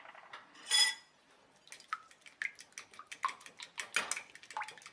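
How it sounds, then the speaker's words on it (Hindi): Eggs beaten with salt and black pepper for a Kolkata street-food egg roll: a quick series of light clinking, tapping strokes against a bowl, close and fairly faint, with one louder scrape near the start, no voices. "और अब हम अंडे को फेंट के तैयार करेंगे।"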